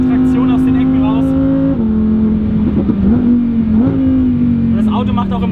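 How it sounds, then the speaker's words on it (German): A Lamborghini Huracan Evo's engine revs loudly and continuously as it downshifts, the pitch dropping and flaring again with blips, while a voice talks over it throughout. "Aber das Runterschalten ist eigentlich fast das Geilste."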